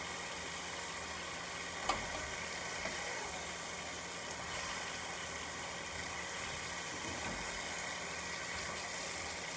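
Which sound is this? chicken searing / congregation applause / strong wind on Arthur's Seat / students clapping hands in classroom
chicken searing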